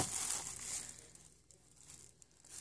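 A plastic bag and vinyl gloves crinkle close by while homemade clay is being prepared. The rustling is soft and continuous, with no voices.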